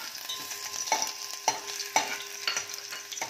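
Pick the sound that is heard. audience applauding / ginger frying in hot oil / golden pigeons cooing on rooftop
ginger frying in hot oil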